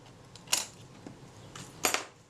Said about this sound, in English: At this stage I'm going to release the shutter